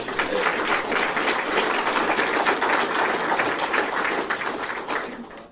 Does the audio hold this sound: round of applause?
yes